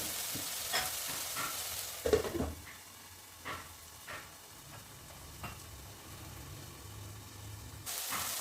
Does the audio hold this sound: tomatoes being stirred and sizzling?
yes